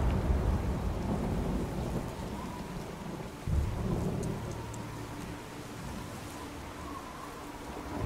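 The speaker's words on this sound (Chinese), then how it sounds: "打雷了" Thunder and steady rain in the video game God of War: a low rumble at the start and a sharp crack midway over continuous rainfall patter, with no talking.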